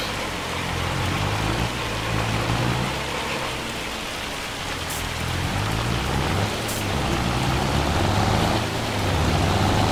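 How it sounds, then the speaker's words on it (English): Heavy, steady rain from a rain and hail storm in the video game Farming Simulator 25 drums continuously in a broad hiss that swells and eases slightly, with a low vehicle rumble underneath. "Before the hail gets too much worse."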